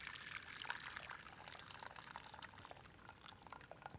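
Hot water pours out of a silicone microwave pasta cooker in a faint, slow stream of splashing and trickling, strongest at the start, then thinning into softer dribbles.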